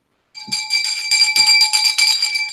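An old glass bell rings in a bright, sustained shimmer of high, clear tones, struck a couple of times with soft taps and close to the listener.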